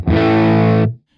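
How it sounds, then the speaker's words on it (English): An electric guitar through a tube amp's input 2 sounds one loud, muffled chord with dark, rounded distortion, held for under a second before cutting off abruptly. "Then we have input 2, which sounds a bit muffled."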